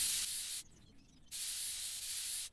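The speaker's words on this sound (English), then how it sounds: "With our spraying can!" A spray can sprays paint in the video game Woodwork Simulator, giving two loud, steady hissing bursts separated by a short pause.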